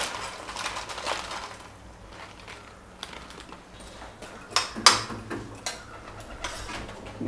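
Frozen peas poured into a pan of cauliflower, a dense run of small hard ticks and clatters that grows busier midway, close and moderately loud, with no talking.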